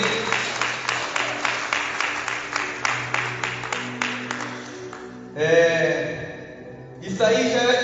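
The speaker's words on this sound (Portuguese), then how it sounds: "Aplauda ao Senhor por isso." A congregation claps in a church service, a series of evenly spaced, rhythmic claps over a sustained background tone, followed by a voice speaking after the clapping stops.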